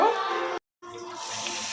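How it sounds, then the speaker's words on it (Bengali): Water poured from a cup into ground chili and coriander spices in a cooking pan, a short close splashing pour that cuts out briefly and then resumes. "সামান্য পানি দিয়ে কষিয়ে নেব"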